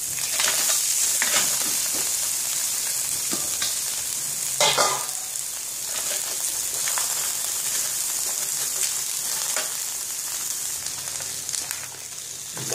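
Mud crab fries in a hot pan for chili salt and garlic crab, giving a steady, close sizzle with crackles and occasional stirring clatter throughout.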